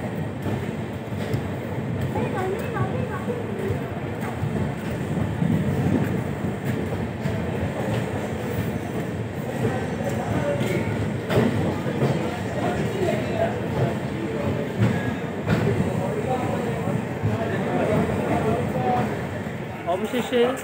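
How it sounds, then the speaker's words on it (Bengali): Train rolling into New Jalpaiguri station, a continuous moderate rumble of carriages with faint clatter, heard from on board with voices talking over it. "এখন আমাদের ট্রেন প্রবেশ করলো নিউ জলপাইগুড়িতে"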